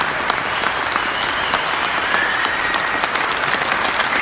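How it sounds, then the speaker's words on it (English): Sustained audience applause at a cryptocurrency conference in Warsaw, steady dense clapping from a large crowd, loud and continuous throughout. "Give him more applause, please."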